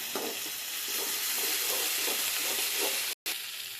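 Onions frying with ginger-garlic paste in a pan, giving off a dense, continuous sizzle with rhythmic stirring swishes and a brief cut-out near the end.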